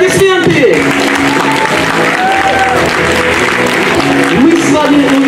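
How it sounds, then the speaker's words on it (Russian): Applause from a concert audience after a children's pop ensemble performs at a year-end recital, loud and continuous, with music and voices sounding beneath the clapping. "Аплодисменты!"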